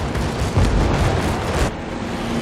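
Heavy, sustained explosions rumble and crackle as bombs strike a warship in World of Warships, loud and dense with a deep booming low end, ending in a slight drop-off, no talking.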